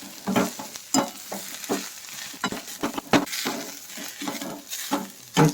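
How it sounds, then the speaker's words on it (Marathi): Tamarind leaves and grated coconut sautéed in a pan over low heat, with steady sizzling broken by repeated scraping and stirring strokes of a spatula, close and fairly loud throughout. "खोबऱ्याचा किस तो टाकायचा आणि परतून घ्यायचा आणि गॅस एकदम कमी करायचा"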